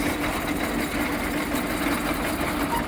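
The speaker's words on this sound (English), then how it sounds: "And this is the gear based winch. Now it is in reverse." Heavy-duty gearbox-driven tractor winch running in reverse, heard as a constant, loud engine drone with a steady mechanical hum and vibration, and no voices.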